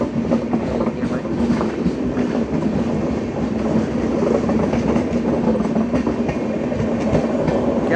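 The Jamnagar–Katra Express rolls past at close range, a loud continuous rumble with rhythmic clickety-clack from the wheels over rail joints that holds for the full stretch.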